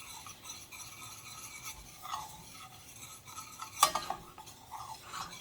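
Flour being stirred into melted butter in a pan to make a roux for a cream sauce, a soft scraping swirl with quiet utensil clinks and one sharper knock partway through, close and fairly faint.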